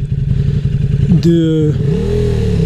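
A KTM 1190 RC8 R sport motorcycle engine idles with a steady putter, then revs sharply upward as it pulls away from a start, loud and close.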